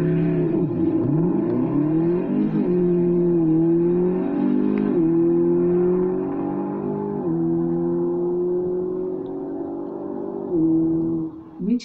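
A Mercedes SLS AMG engine revs and shifts gears, its loud roar climbing and dropping in pitch several times, close and unbroken.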